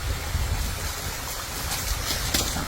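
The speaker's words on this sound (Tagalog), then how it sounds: "Sakto, may batis to, no?" A mountain stream flows steadily nearby, a continuous broadband rush of water with no voices over it.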